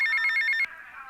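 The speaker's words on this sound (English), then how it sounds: "we've got to answer this phone here now" A telephone rings inside GTA Vice City, a bright electronic trill repeating in quick pulses for about half a second before cutting off abruptly, leaving a faint sustained tone.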